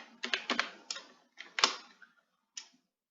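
Keys tapped on a computer keyboard while Python code is entered, a few quick clusters of crisp clicks with short pauses between them, close and clear in an otherwise quiet room.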